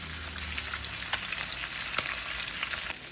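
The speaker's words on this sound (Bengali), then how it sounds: "এখানে যে মাছ ভাজছি আমি" Fish frying in a pan gives off a steady, close broadband sizzle that holds evenly throughout, with a couple of brief crackling pops and no voices.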